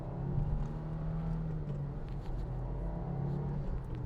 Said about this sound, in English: So second gear pull here.